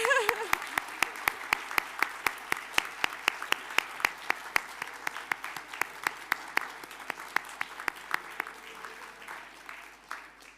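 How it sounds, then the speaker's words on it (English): Sparse applause fills a hall at a Luxembourg science expo awards ceremony, individual claps standing out sharply in a steady, even rhythm for about ten seconds, moderately loud and without voices. "Big applause for all of them."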